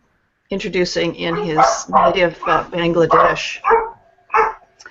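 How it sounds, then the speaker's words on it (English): Dogs bark in the background, giving a few short yaps under a steady stream of a voice talking close to the microphone. "Sorry about the dogs barking."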